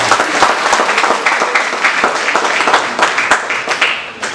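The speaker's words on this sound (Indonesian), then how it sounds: "Tepuk tangan." An audience at a guest lecture applauds, a loud, steady burst of many hands clapping close by, with no talk over it.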